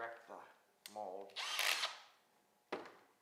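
A handheld power drill spins up in a short whirring burst to mix casting material for a reproduction fish mold, with voices talking close by before and after.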